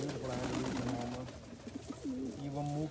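Pigeons coo repeatedly at close range while feeding on wheat straight from the plant, soft overlapping calls over a steady outdoor hum with no speech.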